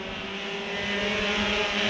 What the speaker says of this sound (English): Cars side by side, two deep for position.